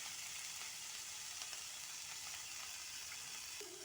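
Cabbage frying in a pan with oil and green chillies, a steady broadband sizzle holding at an even level throughout, with no talk.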